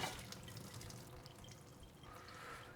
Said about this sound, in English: We're gonna go ahead and drain our lentils.